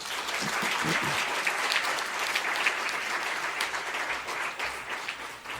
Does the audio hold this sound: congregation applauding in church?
yes